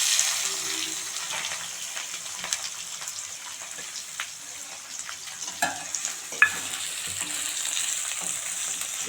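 Chopped onions sizzle and crackle in a hot pan with whole spices for a picnic mutton curry, a steady frying hiss punctuated by spoon scrapes and clinks, with faint voices nearby.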